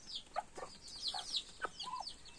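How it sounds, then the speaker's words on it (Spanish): Chickens and chicks feeding in a farmyard give quiet, close clucks and high peeping chirps in short irregular bursts, with no talking over them. "Bastantes pollitos comiendo."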